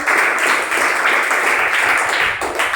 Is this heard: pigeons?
no